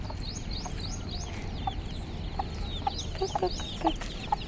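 Chickens cluck softly and repeatedly in short, scattered bursts, with faint bird chirps above a low steady outdoor hum.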